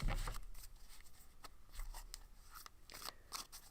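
A big stack of wrestler game cards shuffled by hand, with quick papery crunching and riffling bursts repeating close up and fairly quiet, no talk.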